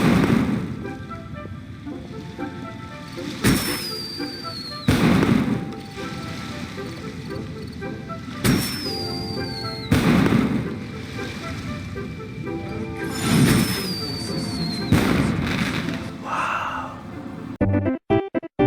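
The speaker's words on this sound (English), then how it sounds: "you can create your own fireworks show with this." Fireworks show in the Genshin Impact video game during a Lantern Rite festival: repeated booming bursts with whistling rising streaks, recurring every few seconds over a busy game music and ambience bed, loud and close.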